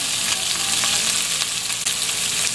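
Chicken feet fry and are stirred in a pan with salt and pepper for lugaw, a loud continuous bright sizzle with scraping stir strokes close up, no talk.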